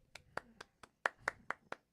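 A single person clapping hands about eight times in an uneven rhythm, crisp and fairly close in a quiet studio setting, with no other sound between claps.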